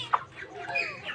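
Pet chickens clucking softly while being fed, with one brief louder cluck near the start and scattered bird chatter throughout, close by and fairly quiet.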